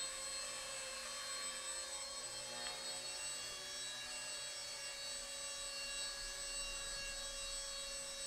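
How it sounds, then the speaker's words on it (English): An Esky F150 V2 micro RC helicopter flies with a steady high-pitched motor whine and faint buzzing drone throughout, close and even, with no voices. "Let's fly the helicopter."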